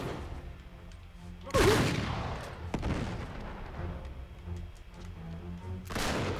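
Gunfire in Uncharted 3: Drake's Deception, two sharp, loud shots a few seconds apart over low game background noise, with a faint click between them.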